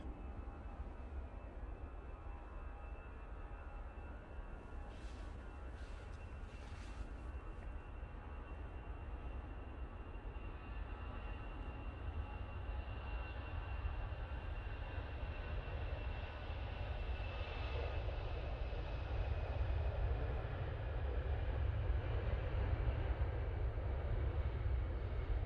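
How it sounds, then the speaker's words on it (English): An EasyJet airliner's jet engines spool up at Manchester Airport, a distant, steady roar with a rising whine that grows gradually louder over about twenty-five seconds, heard alone without talk. "we're going to jump onto the EasyJet that you can hear spooling up"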